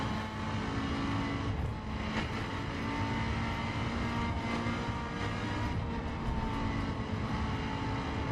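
A BMW M4 engine in the racing game The Crew drones steadily and loudly, a continuous unbroken roar with no talking over it.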